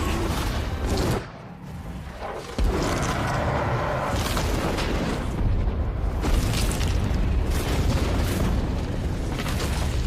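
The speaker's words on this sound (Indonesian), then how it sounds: "Rathalos meledak disebabkan suar Letnan Artemis" A loud, sustained explosive roar as a flare blows up a Rathalos monster in the Monster Hunter film, booming rumble filling the whole stretch, briefly dipping before surging again.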